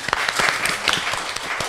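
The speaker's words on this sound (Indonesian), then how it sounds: "Tepuk tangan buat TFS." Applause for TFS, the group founded by Fadli, breaks out in a short burst of scattered clapping, fairly close and steady, with faint voices mixed in.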